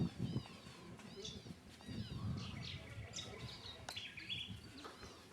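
Birds chirp and call around an old homestead and cemetery near Lake Argyle, with repeated high tweets and warbles over a low murmur of background sound and occasional voices.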